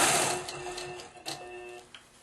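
Long arm quilting machine stitching a pumpkin seed pattern: a soft, fast mechanical ticking and whirring, close but faint, with no voices.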